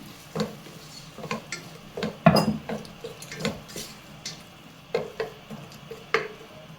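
Spoon stirring chopped tomatoes into sautéed green chillies in a pot for Kannur-style prawn rice, a series of distinct scraping and clinking strokes against the metal at an uneven rhythm, close and clear with no talking.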